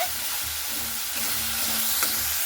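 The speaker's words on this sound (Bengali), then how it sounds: "চিনিটা দিয়ে একটু ভালো মতো করে এইভাবে আমি আবারও নাড়াচাড়া করে নিলাম।" Sugar being stirred into sizzling masala in a pan for an egg curry, a loud continuous close frying hiss with soft scraping of the spoon, no talking.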